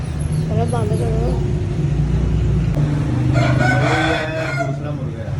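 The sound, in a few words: rooster crowing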